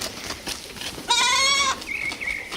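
A goat in a cartoon lets out one drawn-out, clear bleat over a hissy background, followed by a fainter, higher bleating call.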